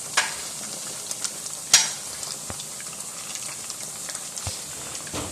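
Cheesy pakoras fry in hot oil with a soft, steady sizzle, broken by a few sharp spatters and scraping stirs as they are turned; no talking.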